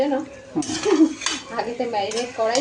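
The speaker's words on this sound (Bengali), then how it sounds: "এবার মাংসটাকে নাড়বো" Marinated local chicken being stirred over onions in a metal pan, with repeated scraping and ringing clatter of the utensil against the pan throughout.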